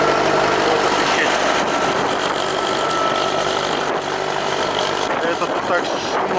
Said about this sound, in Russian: Это тут так шумно трактор проехал.